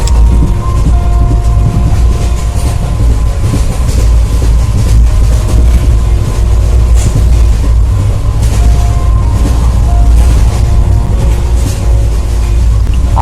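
Steady train running noise with rhythmic clatter, continuous and loud throughout, as a woman boards a train bound for Achintyapur village station; low rumble dominates with no voices.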